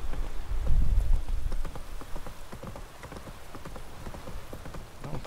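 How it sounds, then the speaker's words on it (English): Steady rain patters in the Witcher 3 game world, a soft continuous wash under the clip-clop of a horse's hooves, which is loudest in the first second and a half. "It's also raining, so they're probably mostly indoors at this point."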